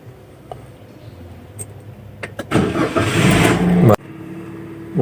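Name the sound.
manual car engine starting with key turn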